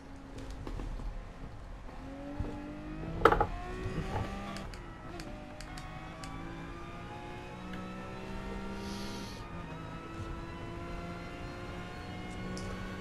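A 1962 Ferrari 250 GTO racing in Gran Turismo Sport on the old Le Mans layout, its engine note droning and shifting pitch through gear changes, moderately loud and continuous with no talk.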